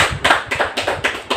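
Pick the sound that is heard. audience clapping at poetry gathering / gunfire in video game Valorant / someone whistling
audience clapping at poetry gathering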